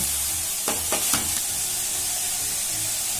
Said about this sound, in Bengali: কড়াই বসিয়ে দিয়েছি এখন দিয়ে দেব কেটে রাখা কষিগুলো